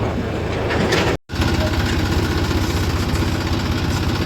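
A truck engine runs at a sugar mill, a steady, low, pulsing rumble at idle with a rough throb, loud and close, briefly cut by a short dropout, with no voices.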